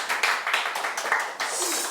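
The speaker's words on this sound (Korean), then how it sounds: "우리 선생님 이야기를 더 뜨겁게 듣기 위하여 박수를 한 번 더" Audience applause at a book launch talk for a children's theatre author, a dense, steady patter of many hands clapping close by, rising briefly in short swells over two seconds.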